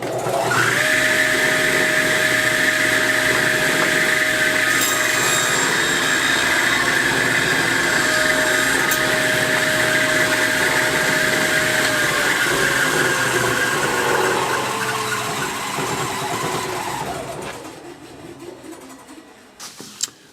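A table saw scoring cuts along a wooden edge runs as a loud, steady motor whine with a sustained cutting tone, then spins down and fades out near the end.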